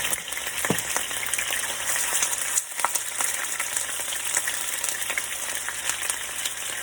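Beef neck bones fry in hot vegetable oil in a pan on the stove, giving a steady, close sizzle and crackle with a few brief pops, and no one speaks.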